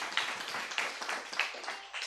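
A church congregation applauds, a steady wash of many hands clapping at a moderate distance, fairly soft and sustained with no talk over it.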